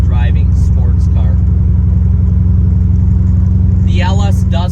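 A 2005 Corvette C6 with its LS V8 drones steadily while driving, a loud continuous low engine rumble throughout, with someone talking over it at the start and end.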